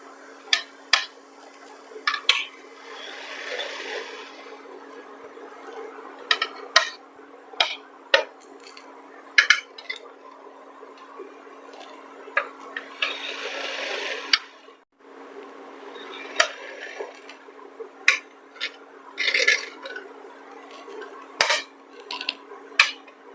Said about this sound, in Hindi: इसे जाली से निकाल लेते हैं प्लेट में।